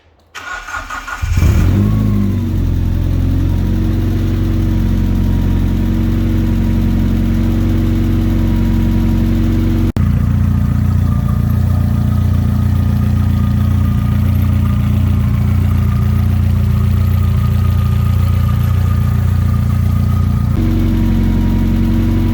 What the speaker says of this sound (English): So there we go, engine runs.